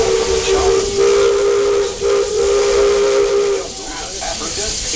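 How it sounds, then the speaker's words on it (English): Old-fashioned steam locomotive at the Magic Kingdom lets out a loud sustained whistle over a broad hiss of escaping steam, close and continuous for several seconds with slight fluctuations. "This old locomotive is descended from the mighty trains that powered the golden age of steam."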